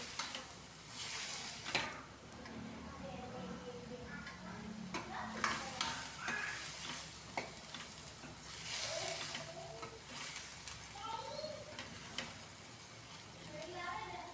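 Chopped onions roasting in a pan for a milk-and-onion bhurji, stirred steadily with scrapes and a soft continuous sizzle throughout, set against background sounds and faint tonal accents.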